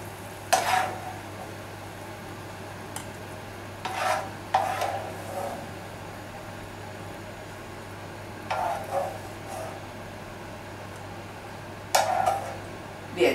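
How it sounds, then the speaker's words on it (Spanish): Fried potato pieces for a Spanish tortilla being tipped and shaken in a metal strainer to drain off oil, giving several short scraping, rustling bursts separated by quiet pauses over a steady low kitchen hum. "Vamos a coger la patata y la vamos a colar. La vamos a poner a colarla aquí"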